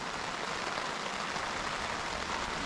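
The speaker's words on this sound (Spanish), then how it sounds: "Mira la lluvia." Steady rain falls throughout, a dense even hiss of drops with no breaks and no voices.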